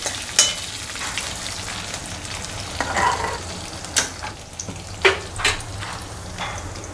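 Finely chopped garlic sizzles in hot oil in a pan as a tempering for moong dal tomato kootu, with a steady close fry broken by several sharp stirring scrapes.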